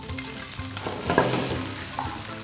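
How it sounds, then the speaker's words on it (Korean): Steady crackling sizzle of ginger stir-frying in a hot pan with soy sauce and water, with occasional stirring scrapes and clinks, close and continuous without talking. "생강을 이렇게 볶아주시다가 튀는 거 조심하세요."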